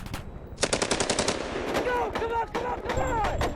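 Intense enemy gunfire from Taliban fighters on a ridgeline in Afghanistan: rapid machine-gun bursts and sharp cracks that come in quick loud volleys and overlap with raised voices.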